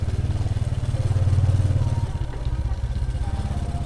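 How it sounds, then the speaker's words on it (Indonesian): A motorcycle engine labours up a steep village road in fog, a close, rough low drone that swells in the middle then drops to a steady sputtering putter. "Nah, di sini motor saya nggak kuat."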